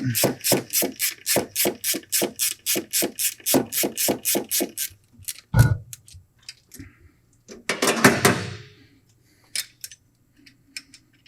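A ratchet loosening a fuel line banjo bolt on a Toyota 22RE engine, a rapid run of close, sharp clicking for about five seconds, then a few scattered clicks and metallic clinks.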